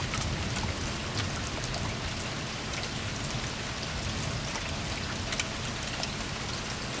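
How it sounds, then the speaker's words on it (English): Steady rain falls outdoors with dense, even patter on surfaces, a continuous close hiss of drops with no pauses and no voices. "Just staying out of the rain."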